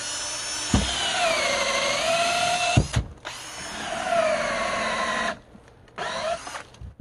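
A mushroom-log drill driven by a gasoline brush cutter bores holes into oak logs on a mountainside. A steady high-pitched motor whine rises and dips under load, with brief drops and restarts between holes.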